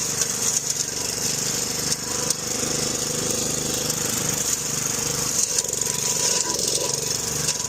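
A DR 26 Premier walk-behind brush mower engine drones steadily and loudly with a rough, rattling roar throughout, nearby and without pause.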